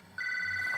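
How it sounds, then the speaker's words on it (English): A telephone rings with a steady, bright electronic tone that starts abruptly and holds evenly, loud and close. "Phone! While I'm doing a review, thank you."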